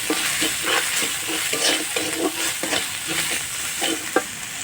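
Chopped turmeric and garlic frying in a pan, stirred in a steady rhythm of spatula scrapes over a constant close sizzle, with a sharper knock near the end.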